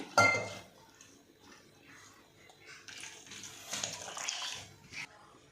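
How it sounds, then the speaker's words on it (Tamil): Water splashes and trickles into a metal pot for making dry ginger milk, with a clank at the start and gurgling pours that rise and fall. "இப்போ இதில் கொஞ்சம் தண்ணி ஊற்றிக்கிடுவோம்."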